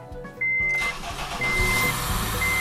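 Honda CR-V engine starting after a motor replacement: a brief crank then the motor catches and settles into a steady mid-pitched idle, close and clear, with a thin electronic tone chiming intermittently over it.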